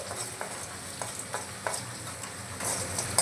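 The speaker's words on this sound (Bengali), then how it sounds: "এগুলোকে একটু শুকনো খোলায় আমি হালকা করে ভেজে নিচ্ছি।" Whole spices (cardamom, cloves, cinnamon, mace, bay leaf and nutmeg) dry-roasting in a pan without oil: soft rattling and scraping clicks recur every fraction of a second over a faint, steady hiss.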